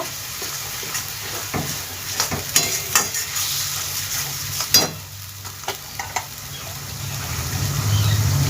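Cabbage and paneer curry being sautéed in a pan, with spices stirred through; a steady low sizzle runs throughout, broken by scattered spatula scrapes and clacks against the pan, growing a little louder near the end.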